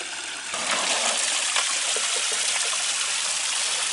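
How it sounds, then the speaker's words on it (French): Water pours from a jerrycan into a tank, a close, steady gushing splash that starts abruptly and keeps flowing without pause. "avec ce bidon, on va s'en servir pour remplir le réservoir"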